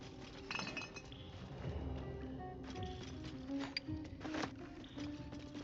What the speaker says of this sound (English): Glass chalice. Smooth chalice fabricated by gnome artisans.